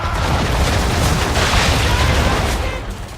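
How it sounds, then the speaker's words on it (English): Ship cannons firing a broadside in Assassin's Creed 3, a loud, sustained roar of booming blasts that merge into one dense rumble for about three seconds before easing off slightly. "Bring around broadside, and when all guns are on target, call fire"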